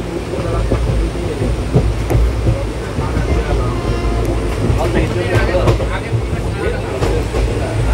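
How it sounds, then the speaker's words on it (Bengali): A train rumbles along the rails with a steady low clatter while people talk nearby over the noise. "ট্রেন আমাদের ছেড়ে দিয়েছে।"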